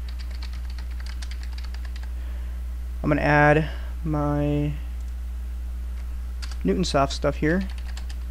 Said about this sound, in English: Oh, my keyboard is being funny.